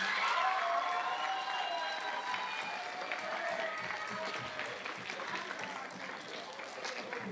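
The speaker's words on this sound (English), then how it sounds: "Let's give our Principal's Award recipients a round of applause." Sustained audience applause at a seventh-grade school awards ceremony for Principal's Award recipients, a steady dense wash of clapping from a large crowd throughout, with some talk mixed underneath.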